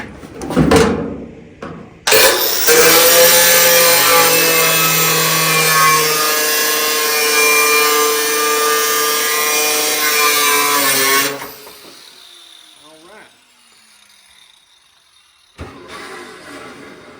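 A power saw cuts through the roof section of a VW car, a loud steady whining, buzzing cut lasting about nine seconds before stopping, with brief clanks and handling noises before and after.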